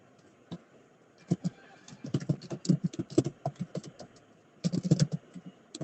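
Typing test cases on a computer keyboard: irregular bursts of close, crisp key clicks with short pauses between runs, fairly quiet and steady.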